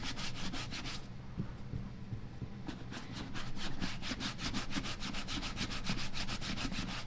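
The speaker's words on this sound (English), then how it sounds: "open it up a little bit and then massage that wax in there" Steady rhythmic rubbing as fingers massage wax into the tri-fold tongue of a Jim Green Rugged African Trooper leather boot, a close scratchy back-and-forth friction with regular strokes and no talking.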